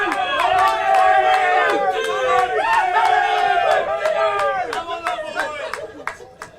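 A football crowd at the Central League playoff second leg between Wellington United and Havelock North Wanderers claps the match officials off the pitch. Many shouting voices and loud chatter carry through, with sharp clapping bursts growing more prominent toward the end.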